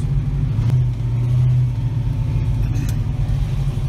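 A 1970 Ford Mustang Fastback with a 351 Cleveland V8 rumbles loudly nearby, its deep engine note swelling in a couple of revs over a steady low idle.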